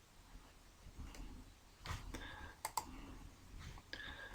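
Mouse clicks on a button in CAD-CAM software while preparing an EDM sample part for 3D simulation, several sharp, quiet clicks spread over a few seconds against faint background hiss.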